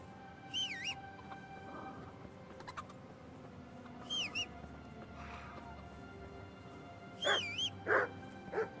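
A dog in the medieval video game Kingdom Come: Deliverance gives short yelping barks in several brief bursts, fairly clear over a low game ambience.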